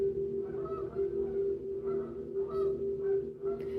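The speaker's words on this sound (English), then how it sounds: "them birds talking loud" Geese honk loudly and repeatedly over a steady low drone, several calls overlapping in an irregular rhythm close by.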